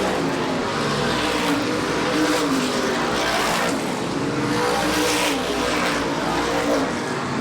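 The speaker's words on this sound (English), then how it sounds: "Mitchellidis with a well-prepared race car here tonight by Marco Turcotte's crew" Modified race cars in a True Value Modified Racing Series event at Star Speedway, engines roaring loudly and continuously as the pack races around the track, with no break in the noise.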